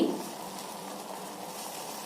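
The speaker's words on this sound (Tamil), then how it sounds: "காபி பாருங்க இந்த மாதிரி நல்லா கொதிக்கணுங்க தண்ணி" Coffee and water boiling in a pot on the stove, a quiet, steady hissing bubble heard up close and unbroken for a couple of seconds.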